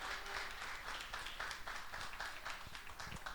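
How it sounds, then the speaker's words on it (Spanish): An audience at an evening lecture on Dominican constitutional history applauds to welcome the speaker, a soft, distant wash of many hands clapping that holds steady for a few seconds. "recibamos con un fuerte aplauso a nuestro conferencista Ramón Papo Fernández"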